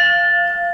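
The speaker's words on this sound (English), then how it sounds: "We tried to ring the bell with more or less success." A single church bell tone ringing out in Vilcabamba, sustained and loud with a clear metallic hum that slowly fades.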